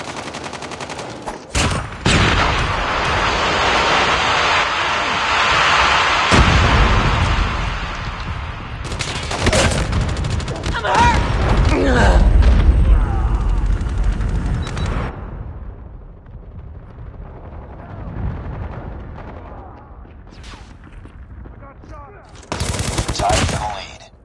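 Loud, busy gunfire from a Call of Duty Mobile team deathmatch, with sharp individual shots, sustained automatic bursts and heavy booming impacts, quieter in the later part before a final loud burst.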